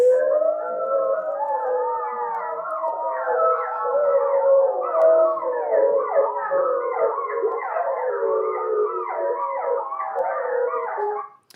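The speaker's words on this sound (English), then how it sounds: "help determine the number of wolves howling" A chorus of wild wolves in Yellowstone howls together, several voices rising, wavering and overlapping for over eleven seconds. The howls are loud and clear against quiet surroundings, then stop abruptly at the end.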